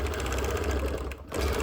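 Sewing machine running steadily while quilting small continuous curves on a Nearly Insane sampler quilt block, a close, even mechanical whir that dips briefly and resumes.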